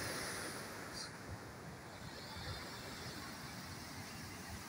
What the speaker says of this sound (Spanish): Esta es la creciente que tiene el arroyo.